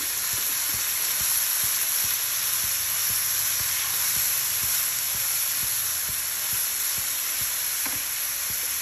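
Chopped onions sizzle and fry steadily in a hot pan for a jackfruit curry, a dense constant hiss with faint stirring clicks and ticks underneath, close and even throughout.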